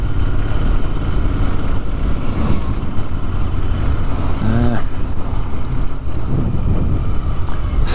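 A Royal Enfield Interceptor motorcycle with stock OEM exhausts runs on the road, its engine a loud, steady rumble under strong wind noise throughout, with a brief rising rev midway.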